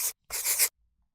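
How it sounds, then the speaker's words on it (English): Pen strokes scratching across paper, two short bursts with a brief pause between, close and quiet with no talking. "let me write those."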